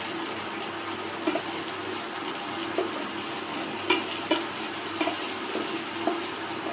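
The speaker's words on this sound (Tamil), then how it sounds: "பாவக்காவோட பச்சை வாசம் போகிற அளவுக்கு நம்ம ஒரு லோ ஃப்ளேமில் வச்சு இதை நம்ம ஃப்ரை பண்ணி எடுத்துக்கலாம்" Bitter melon fries steadily in a pan over a low flame, with occasional soft scrapes and clinks of stirring over the constant hiss.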